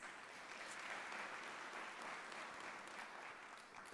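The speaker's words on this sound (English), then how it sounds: "Ladies and gentlemen, give him a warm round of applause." An audience at an International Anti-Corruption Day event applauds steadily for about four seconds, a continuous even wash of many hands clapping, faint and distant in the room, with no voices over it.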